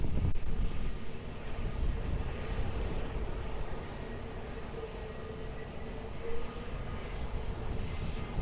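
An airplane on approach to runway 20 at Lisbon Airport gives a steady, broad engine roar that stays at an even level for the whole stretch, with no voices over it.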